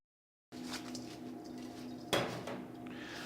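Salt and brown sugar are stirred together in a bowl for a salmon gravlax cure, making a quiet, continuous gritty scraping with one sharper knock partway through.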